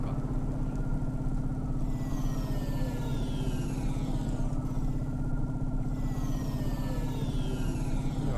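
A vehicle engine in the Cloudpunk video game gives a steady, low, droning hum under a wash of rain noise, with faint sweeping whooshes passing by, continuous and even in loudness.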